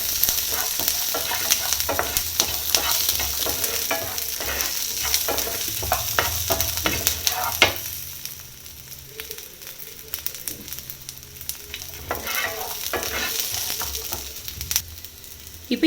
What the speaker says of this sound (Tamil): இப்போ நல்லா கொஞ்சம் பொரியட்டும்